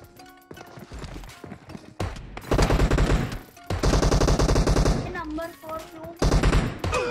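Rapid bursts of automatic gunfire in PUBG Mobile, loud and close, firing in repeated volleys separated by short pauses, with a voice speaking between the shots.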